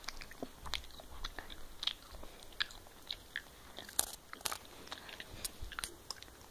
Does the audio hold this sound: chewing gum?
yes